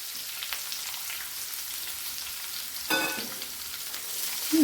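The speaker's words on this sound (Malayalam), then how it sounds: "നമ്മുടെ ചെറിയ ഉള്ളി ചതച്ച് വെച്ചിരിക്കുന്നത് ഇട്ട് കൊടുക്കാം" Crushed small onions hit hot oil in a pan for potato fry, a steady faint sizzle that bursts into a louder hiss as they are added near the end, no speech.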